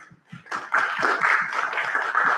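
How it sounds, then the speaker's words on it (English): A room of attendees at a Bronx community board general meeting breaks into applause, a few scattered claps building into steady, dense clapping that holds close and fairly loud. "I want for all of us to give each other a big round of applause."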